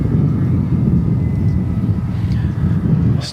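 A 22-year-old cargo aircraft from Atlanta roars steadily at DFW Airport at night, a loud broadband rumble that holds level throughout, with wind noise on the microphone.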